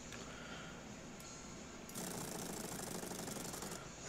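A power drill runs while screwing a part onto an ugly-looking diesel truck in the Diesel Brothers game, starting as a softer whir and then jumping to a loud, harsh buzzing rattle for about two seconds before easing off.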